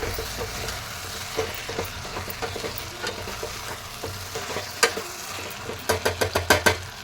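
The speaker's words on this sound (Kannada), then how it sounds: "ಈ ಥರ ಮಿಕ್ಸ್ ಮಾಡಿದ್ದೀನಿ ನೋಡಿ ಅವಾಗ ಅವಾಗ ಸ್ವಲ್ಪ ತಿರುಗಿಸ್ತಾ ಇರಬೇಕು" Eggplant curry cooked without masala is stirred in a steel pan, with a steady sizzle and scraping spoon strokes that quicken into a fast run of scrapes near the end.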